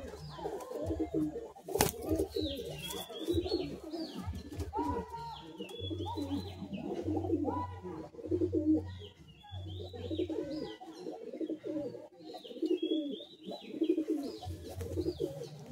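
Madrasi pigeons at a sale coo in repeated low throbbing phrases near the microphone, with chirps and a brief flutter mixed in and some voices in the background.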